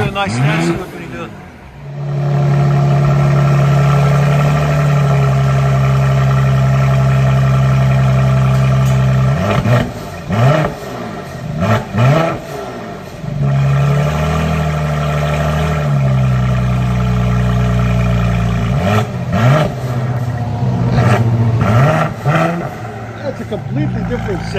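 A 2019 Mercedes GLE 43 AMG with a biturbo V6 and a Meisterschaft axle-back exhaust that replaces the muffler. It rumbles loudly at idle and swells through repeated deep revs, and someone talks over the engine at times.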